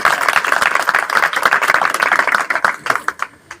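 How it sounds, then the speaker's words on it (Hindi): Dense applause from a worship congregation at a thanksgiving service, many hands clapping loudly and steadily for about three seconds before thinning out into a few scattered claps. "अगर समझ आई है तो पाकरू के लिए जोर तालियां बजाएं"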